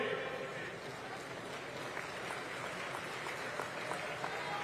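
Applause from an audience at a Hindi-language public gathering for farmers, a steady, dense clapping that fills the whole stretch at moderate level, with voices faintly mixed in.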